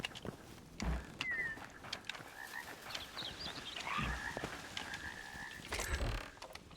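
A toad in the Hytale video game croaking loudly in a few spaced bursts over a low busy game ambience, with no talk.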